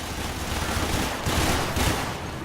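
Sustained automatic gunfire in the Warframe video game, a dense, loud continuous rattle of weapon fire with bursts swelling in intensity, heard alone without voices.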